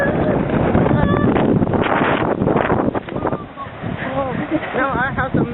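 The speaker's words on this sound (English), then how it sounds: "This wind gusts are up to 70 miles an hour." Strong wind gusts of up to 70 miles an hour in a wind storm over a disaster area, a loud continuous roar and buffeting against the microphone, with a person talking over it.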